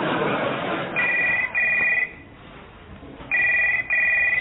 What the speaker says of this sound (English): But it's your phone.